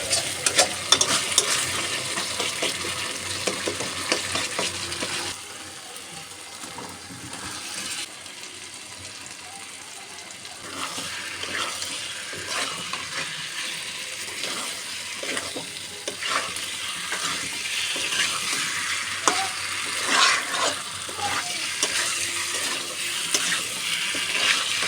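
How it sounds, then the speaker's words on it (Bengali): Potatoes being stir-fried in a pan, a loud, close, continuous sizzle with scraping stirs throughout, briefly softening partway through before the frying picks up again, with no talk. "তো তাড়াতাড়ি করে আমি এখানে আলুটা একটু কষিয়ে নিচ্ছিলাম।"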